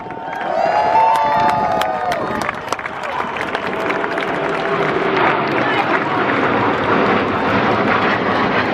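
Red Arrows jet aircraft performing an air show display at MCAS Miramar, a loud continuous jet roar with rising whine early on, crowd noise and a commentator's voice underneath throughout.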